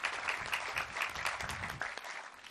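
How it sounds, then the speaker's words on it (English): Audience applause at a navy submarine commissioning ceremony, a brief burst of scattered clapping heard from a distance, moderately faint with uneven individual claps. "let's give them all a round of applause"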